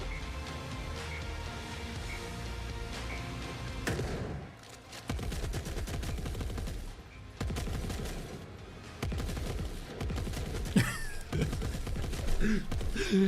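A lone automated turret opens fire in the video game Forever Winter, with dense bursts of rapid gunfire that start and stop in several long volleys amid battle noise.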